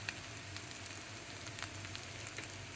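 Ponganalu (paniyaram) fry in a pan with a soft, steady sizzle and scattered crackling pops. The oil hisses quietly and evenly, with no voices over it.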